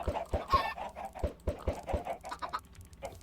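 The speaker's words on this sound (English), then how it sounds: "Our beloved chicken." Chicken clucking in a modded Minecraft world, a run of short, evenly spaced clucks repeating steadily at moderate loudness with no talking over it.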